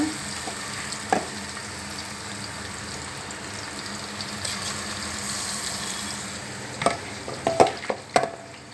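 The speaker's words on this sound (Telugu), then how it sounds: "ఓకే అండి వేసేసాను చికెను" Chicken sizzles steadily in a hot pan with cooked onions while a utensil scrapes and clinks against it, the stirring growing busier toward the end.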